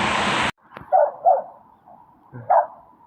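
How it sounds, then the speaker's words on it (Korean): A dog on a mountain trail at Geonjisan in Jeonju barks warily toward a passing hiker: a sharp noise burst, then three yapping barks at moderate distance, two close together and one after a pause, in an otherwise quiet outdoor setting. "강아지가 저를 향해 열심히 짖고 있네요."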